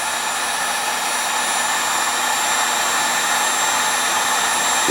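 A heat gun blows hot air onto a gouge in a plastic PA speaker, a loud, steady whooshing roar with a constant motor whine, unbroken and close.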